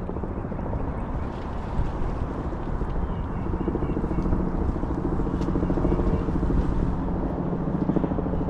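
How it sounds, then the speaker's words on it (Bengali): A helicopter drones overhead in New York City near Roosevelt Island, with a steady low rumble and rhythmic rotor chop, holding constant and fairly loud throughout. "এখানে হেলিকপ্টার সবসময় অবজার্ভ করে।"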